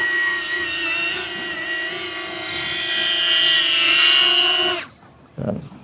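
A small consumer drone hovers close by, its propellers giving a loud, steady high-pitched buzz with harmonic whine that cuts off abruptly near the end, followed by a brief faint clatter.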